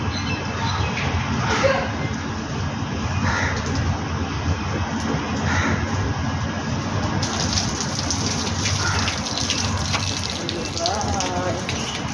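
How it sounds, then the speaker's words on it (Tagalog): Water runs steadily while flowers and watermelon plants are being watered outdoors, a continuous splashing gush at close range. "Magdidilig po ako ng mga bulaklak at ang aking pakwanan"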